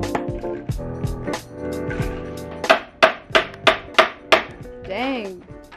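A chisel knocks old tile off a DIY tiled table: after a stretch of nearby voices talking, six sharp, evenly spaced cracking strikes ring out close and loud.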